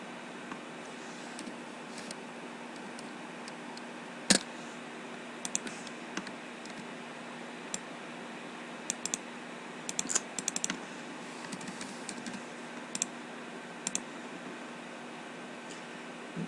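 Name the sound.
typing on a computer keyboard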